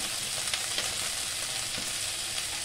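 Spices with turmeric and rock salt sizzle in hot oil in a pan, a steady crackling fry with occasional scrapes of stirring, close and continuous, no talk.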